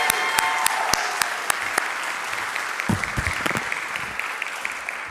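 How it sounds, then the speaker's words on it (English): A room of summit attendees bursts into a round of applause at a morning session, dense clapping close and loud that holds steady, then thins toward the end. "Can we do one more round of applause for Sheridan and for James for joining us this morning?"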